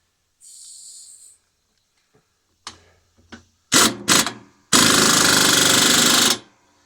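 A pneumatic impact wrench tightening a nut on a Husqvarna mower, a faint air hiss, then short loud hammering bursts followed by a long sustained rattling run of nearly two seconds, close and harsh, no talk.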